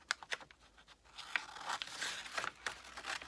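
Faux leather for a journal cover is cut with scissors, giving quiet, close crisp snips and a rustling, tearing drag of material in uneven bursts, louder and denser toward the end.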